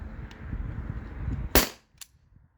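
A modded T4E HDP50 pistol running on an HPA tank with no restrictor fires one sharp, loud crack in the middle, with faint handling noise before it and a short echo and a click after.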